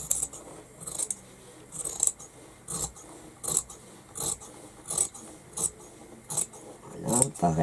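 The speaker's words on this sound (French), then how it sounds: "je vais découper ma pièce en laissant évidemment ma petite marge de couture tout autour" Scissors snip through fabric for a baby sleeping bag, giving a series of sharp, close cuts spaced roughly every half second to second, with faint background rustle between them.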